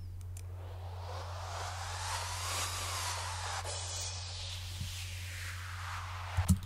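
A layered build of a crash cymbal, effects and a reverse sweep, swelling as a broad noisy wash with a rising and falling tone, over a steady low hum, ending with a brief hit.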